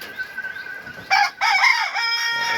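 An Egyptian Fayoumi rooster lets out a single loud, close crow lasting over a second, preceded by soft, faint clucking from the farm flock.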